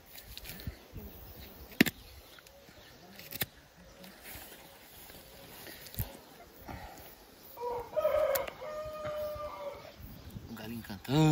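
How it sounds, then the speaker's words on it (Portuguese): A rooster crows once on a farm, moderately near, after a stretch of scattered knocks and handling noise; people talk around it. "O galinho cantando."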